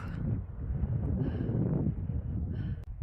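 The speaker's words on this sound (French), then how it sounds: "Je ne sais pas si vous entendez le vent dans le téléphone" Wind buffets a phone microphone on a mountain plateau in rough, low rumbling gusts that swell and fade over a few seconds, with no voices heard.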